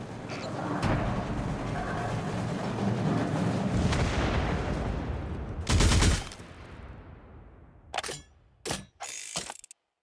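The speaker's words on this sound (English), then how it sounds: "Those shots are coming from above" Heavy gunfire rains down from above in the video game Destiny Rising, a loud continuous barrage that breaks into a sharp burst and then a few short bursts trailing off into quiet.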